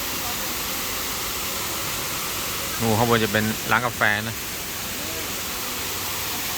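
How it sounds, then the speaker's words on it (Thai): Steady broadband rush of a waterfall at a scenic cafe in Chiang Rai, Thailand, constant in the background while someone speaks briefly over it partway through. "มีน้ำตกด้วย"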